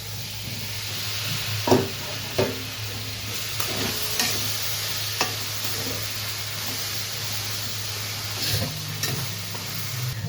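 Fish fat frying in oil in a pan for a Bengali fish oil dish, a continuous sizzle with repeated stirring scrapes and occasional knocks against the pan, steady and close.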